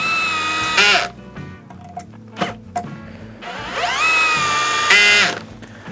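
A Metabo BS12BL drill-driver on speed 2 drives a screw into wood in close, whining motor bursts: a short run, brief clicks, then a longer whir rising in pitch as it spins up, ending abruptly.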